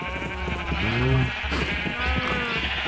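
Sheep in Minecraft Java Edition 1.14.4, bleating up close in a couple of wavering calls, the first around the middle and another shortly after, over quiet game ambience.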